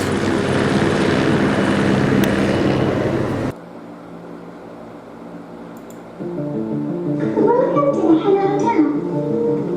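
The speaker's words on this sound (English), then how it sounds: "Helicopter approaching." Helicopter rotor and engine drone, loud and steady at first, cutting abruptly to a quieter hum, then swelling again with a whining, pulsing tone as it passes overhead.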